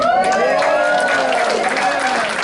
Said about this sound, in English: Headliner here, Gary Edelman, give him a hand.